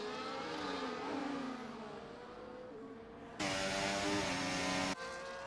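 An F1 car in the F1 24 racing game at the Saudi Arabian Grand Prix, engine whining at high revs as it closes in and passes with DRS open, then jumping louder and harsher near the end, with no talking.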